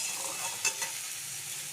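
Parboiled potatoes frying in oil in a pan, a close, steady sizzle with a couple of brief stirring scrapes, no talking.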